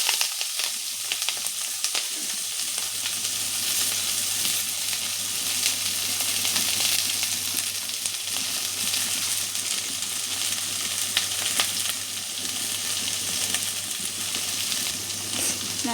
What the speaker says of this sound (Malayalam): നമുക്ക് വഴറ്റി കൊടുക്കാം